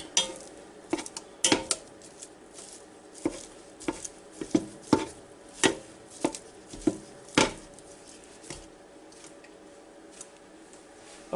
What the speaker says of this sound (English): we'll take my meat and potato masher here and start breaking this all up here in this Ninja FOODi Deluxe